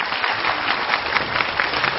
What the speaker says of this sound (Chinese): 我们掌声欢迎晓婷